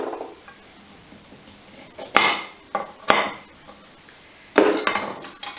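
Knife trimming the ends off organic carrots on a cutting board, three or four sharp close chops with a quiet rustle of handling between them.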